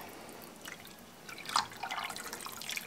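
Water is poured gently over cheese curds for homemade mozzarella, giving soft, faint trickles and drips that swell briefly toward the middle and continue quietly to the end.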